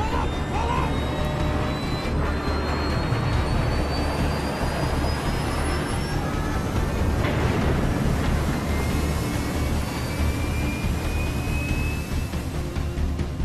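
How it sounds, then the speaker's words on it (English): In the video game Splinter Cell Blacklist, a plane goes down amid a continuous roaring jet-engine rumble with rushing wind, steady and dense for over thirteen seconds with faint whining tones. "That plane had a crash,"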